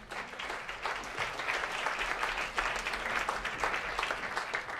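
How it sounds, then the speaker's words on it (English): A jazz club audience at Dizzy's claps in a steady, moderately quiet round of applause that carries evenly through the whole stretch, with no talk over it. "Give yourself a round of applause for coming out."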